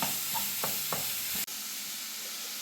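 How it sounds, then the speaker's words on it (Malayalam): Beetroot pieces stirred in hot oil for a pickle, a soft hissing sizzle with a few scraping spoon strokes and one sharp click, fairly quiet and close with no voices. "ഇനി നന്നായി ഇളക്കി കൊടുക്കണം ഒന്ന് എണ്ണയിൽ കടന്നിട്ട് ബീട്രൂട്ടിൻ്റെ കഷ്ണങ്ങൾ വെന്ത് വരട്ടെ"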